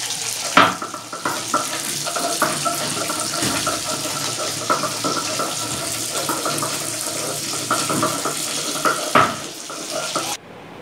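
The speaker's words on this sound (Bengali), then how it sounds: "মাছ ভাজছে" Steady sizzling and spattering of fish frying in a hot pan, with clinks of a utensil stirring and scraping now and then.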